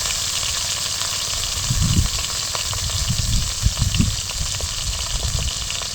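Rava dosa batter with tomato and onion frying in a pan, a steady low sizzle with soft bubbling and a few stirring bursts, close and moderately loud, no voices.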